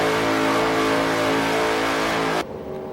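A modified car revving hard at Summernats, a loud sustained engine roar held steady before cutting off abruptly near the end.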